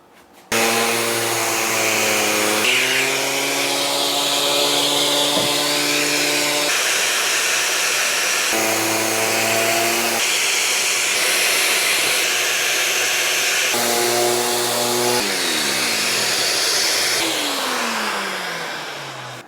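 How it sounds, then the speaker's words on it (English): A shop vacuum fitted with a brush attachment cleans dust off freshly sanded wood, its loud steady motor whine running continuously with shifting pitch as the brush moves over the boards. "next we're going to use the shop vac with a brush attachment"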